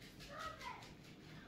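A house cat meows softly indoors, two short mid-pitched calls close by, with no talk over them.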